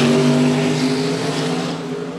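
At a drag racing event, a race car roars down the strip as one loud, sustained engine note that holds steady and then eases slightly as it goes.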